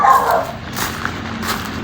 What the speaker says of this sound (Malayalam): ഭയങ്കര കുരയ്ക്കലായിരുന്നു